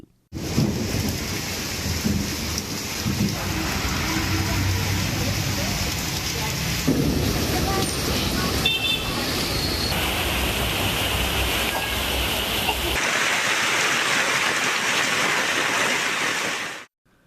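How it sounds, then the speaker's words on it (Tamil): Heavy rain with wind pours steadily over the Dharmapuri area of Tamil Nadu, a dense, loud, continuous wash of rain with gusting roar and a few deeper rumbles, no voices. "தருமபுரி மற்றும் அதன் சுற்றுவட்டார பகுதிகளில் காற்றுடன் கனமழை பெய்தது."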